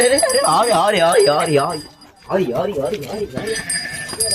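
Several sheep bleat in quick succession, loud and close, their wavering cries overlapping, then a short lull before more bleating resumes.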